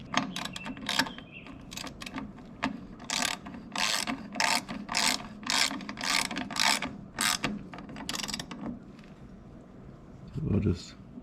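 Rapid clicking ratchet strokes come in bursts as bolts are tightened on an Allett C24 reel mower during a drive belt change, close and fairly loud, with a voice at the end.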